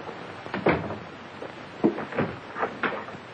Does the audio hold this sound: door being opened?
yes